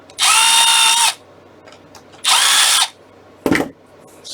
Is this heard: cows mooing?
no